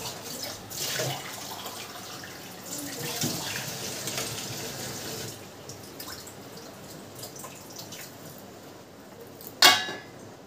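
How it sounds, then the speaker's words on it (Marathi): Water is poured into a pot of heated milk while tea is being made: a steady splashing pour runs for several seconds, then fades to quieter trickles, ending in a sharp clink. "थोडंसं पाणी टाकावं लागेल"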